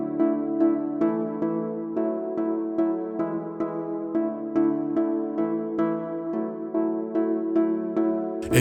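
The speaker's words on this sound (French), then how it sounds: "On débute easy par un petit pluck, donc un petit synthé, normalement un son assez sec, sur lequel moi j'ai rajouté de la reverb" A plucked synth, naturally dry but drenched in reverb, plays four gentle chords in a steady repeating pattern. Each note has a short bright attack that rings out into a soft wash, loud and close with no voices.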